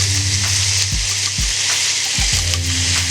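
Smash burger patty sizzling loudly on a hot surface while pressed flat with a bacon press, a steady close hiss of frying with a few low scraping shifts and no talk.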